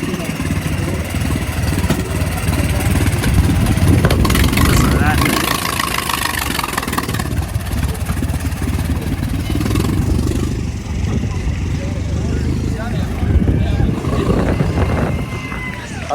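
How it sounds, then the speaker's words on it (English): Classic car with an open valve running at a Great Race stop in Wichita, its engine sputtering and popping in a loud, rough, continuous rumble close by, with someone talking over it. "That thing's open valve, sputtering and popping"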